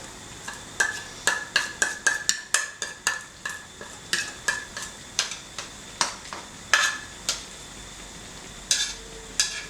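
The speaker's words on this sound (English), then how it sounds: "And then we just start mixing it all together" A spoon scrapes and clinks steadily against the inside of a pot of tteokbokki sauce, in quick irregular strokes with brief pauses, close by and with no talking.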